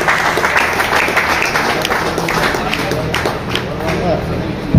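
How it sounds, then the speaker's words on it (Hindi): A crowd applauding at a tournament prize distribution, dense sustained clapping throughout, with a voice talking loudly over it. "हाँ भाई जोरों से ताली"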